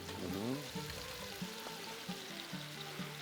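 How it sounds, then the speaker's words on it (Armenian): Cream, 33 percent fat, poured into a hot pan for a fish sauce, with a sizzling, bubbling frying sound under a short pouring gurgle at the start, followed by quieter intermittent sizzling. "Հիմա ավելացնում ենք սերուցքը։"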